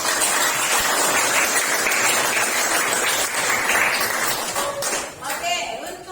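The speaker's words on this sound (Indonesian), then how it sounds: "Tepuk tangan" Classroom of students clapping hands for a quiz group, a loud, close burst of applause that runs several seconds before tapering, with a few light pings and possible voices near the end.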